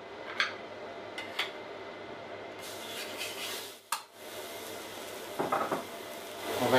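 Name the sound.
beef patty sizzling on a plancha griddle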